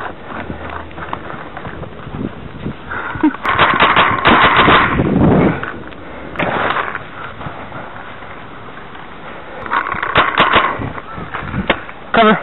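Paintball guns firing in rapid bursts during a paintball game at Sagami, several clusters of sharp cracks and pops over a busy outdoor field, with voices shouting in between.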